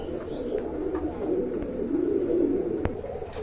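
Pigeons coo softly and repeatedly at a pigeon market in Bangladesh, with satin breeds such as blue satins present, and occasional short chirps and faint clicks around the calls.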